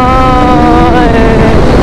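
KTM RC 390 motorcycle on the road under engine braking, a loud steady whine with gliding harmonic tones falling slightly as revs drop, close and continuous with heavy wind rush.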